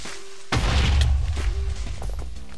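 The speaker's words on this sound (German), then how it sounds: "Jetzt wird er explodieren." A creeper blows up in Minecraft with the Elemental Creepers mod, one sudden loud blast that rolls into a long, dense rumbling crash and fades slowly.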